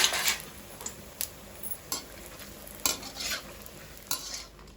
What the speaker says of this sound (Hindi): अब हम डाल देते हैं इसके अंदर मखाने और लाइट गोल्डन इन्हें फ्राई कर देंगे